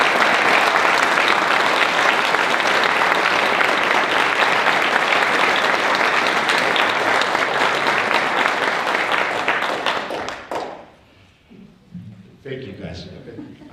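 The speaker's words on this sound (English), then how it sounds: "I'd like to give them a special round of applause" At an elementary school ribbon cutting ceremony, a crowd applauds loudly and continuously for about ten seconds before the clapping fades out and a voice begins speaking.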